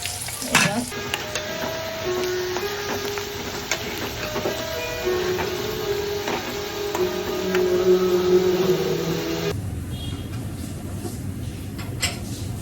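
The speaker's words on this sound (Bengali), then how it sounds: "প্রথমে পেঁয়াজের বেরেস্তা করবো" Sliced onions frying in oil until crisp and browned, a loud, continuous close sizzle with repeated stirring scrapes, the tone shifting slightly near the end.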